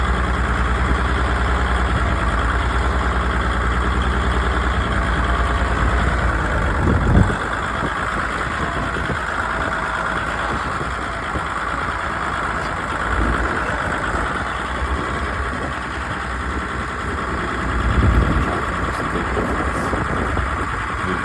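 An old 1992 Kubota tractor engine idles steadily and close by for the whole stretch, a low continuous rumble with two brief louder surges along the way and no talking.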